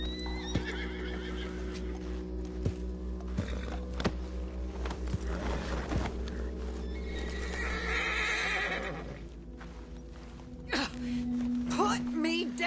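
A horse in Red Dead Redemption 2 whinnies and neighs amid clip-clopping hooves, sharp thuds and a low engine-like drone, with a rising squeal near the end.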